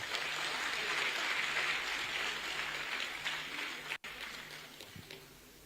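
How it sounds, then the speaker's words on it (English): A convocation ceremony crowd in The Gambia claps steadily, a dense, sustained wash of applause that stays fairly even throughout, with a brief dropout near the end. "Can you honor him with a round of applause?"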